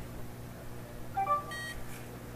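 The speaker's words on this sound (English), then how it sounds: "hopefully the LEDs on this reader will light up and it'll beep." NFC credit card reader beeping at a conference demo, a short pair of faint electronic tones in a quiet room hum.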